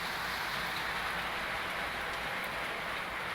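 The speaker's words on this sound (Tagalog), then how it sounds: "Biglang buhos ang ulan." Heavy rain pours down in a sudden downpour, a dense, continuous hiss and roar that stays loud and unbroken, with no voices over it.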